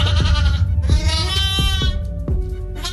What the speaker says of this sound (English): Huge sheep.